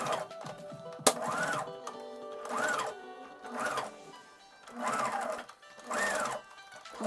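A sewing machine stitches a homemade headband in repeated bursts of fast whirring, about five runs separated by short pauses, close and moderately loud, with a sharp click near the start.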